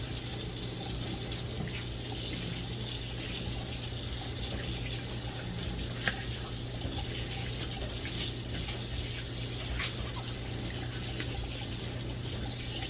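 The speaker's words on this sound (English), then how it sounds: "Now you can wash it, you know, a couple minutes depending on how dirty it is." A Dyson vacuum filter is rinsed under a running tap, giving a steady, close rush of water that lasts throughout with a few faint splashes and knocks.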